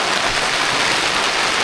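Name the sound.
rain falling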